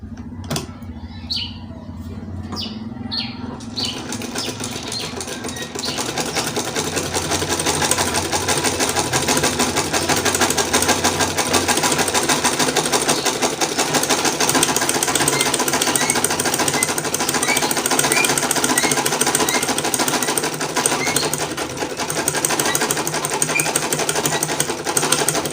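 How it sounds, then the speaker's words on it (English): Domestic sewing machine set to gather, running elastic thread through net fabric along a marked line, a steady, close, continuous whirring rattle that starts after a few seconds of soft clicks and holds loud to the end. "You put your machine on gather, then I'll just sew on this line I've created already."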